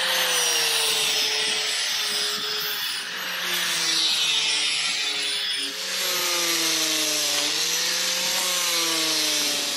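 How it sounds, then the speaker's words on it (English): The back edge of a homemade wooden boat rudder is worked with a power sander, a loud, close, continuous whine that dips briefly twice as the tool shifts position, with no voices. "Sanding back the rudder"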